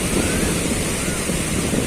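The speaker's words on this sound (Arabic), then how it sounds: "حالة البحر الموج مرتفع" High sea waves on a cold, windy winter day in Alexandria, a continuous rumbling surf roar with heavy wind buffeting the microphone.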